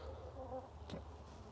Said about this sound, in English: there's plenty of bees in here